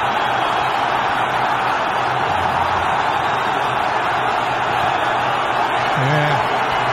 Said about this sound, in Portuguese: A torcida do Palmeiras está comemorando o gol do Santos!